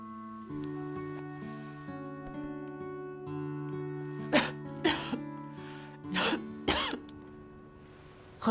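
A sick person coughing in a series of harsh bursts, close and loud, over a sustained musical drone in a Christian film scene.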